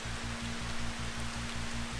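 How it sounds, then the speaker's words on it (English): Heavy rain pours down steadily at an outdoor campsite beside a campfire, a dense continuous wash of noise with a low rhythmic pulsing underneath and no voices. "Even though the rain is pouring down."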